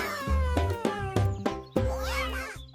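A voice imitates a cat, singing a run of melodic meows over bright musical backing in a children's alphabet animal song, each note clearly separated and close.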